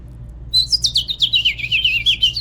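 A voice imitating a house finch call, a run of quick whistled chirps and warbling notes, close and clear, alone with no other talk.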